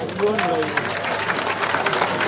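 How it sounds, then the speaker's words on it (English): Debate audience for the Kawempe North MP candidates clapping together: a steady wash of crowd applause with a voice speaking over it near the start. "Let's clap for all the candidates for KAWEMPE North."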